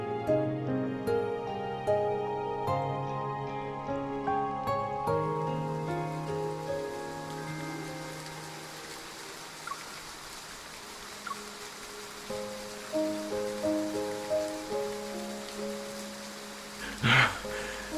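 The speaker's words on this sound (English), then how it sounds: "It's raining?" Steady rain patters over soft, sustained tonal music in the video game Love and Deepspace, with a sharper burst near the end; the rainfall stays in the background throughout.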